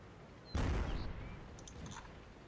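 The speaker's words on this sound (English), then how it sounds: "that was artillery shooting at me" Artillery shell in World of Tanks bursting near a Pz.Kpfw. III Tier IV medium tank: one sudden loud heavy boom with a low rumbling tail that fades over about a second, alone over faint background noise.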